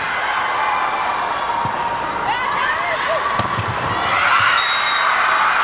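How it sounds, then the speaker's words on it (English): Volleyball arena crowd at the Alonte Sports Arena during a PSL Grand Prix match, a loud continuous roar with whoops and scattered thuds, rising near the end, under a commentator's voice. "with the crowd noise that we're experiencing right now"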